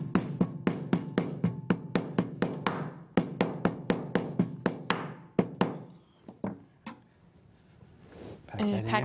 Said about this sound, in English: And take a hammer, and you want something with a flat face.